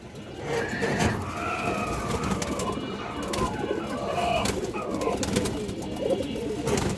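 Pigeons, among them black Bagha males, coo repeatedly at close range, their soft rolling calls overlapping against steady background bustle.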